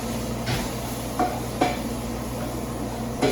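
Homemade sausages sizzle in a pan with a splash of maple syrup cooking down, a steady low fry with a few soft stirring scrapes and clinks, close and fairly quiet, no talking.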